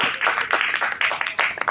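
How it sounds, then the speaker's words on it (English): Audience applause at a California history speaker series talk, a dense wash of many hands clapping fairly close and steady for a short stretch, with no voices over it. "Let's give her a round of applause."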